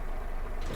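A tractor engine drives in Farming Simulator 22, a steady low rumble with a broad droning hum that holds at an even level throughout the short moment, with no talk over it.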